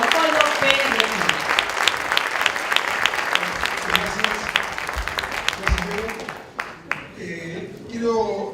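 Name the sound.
audience applause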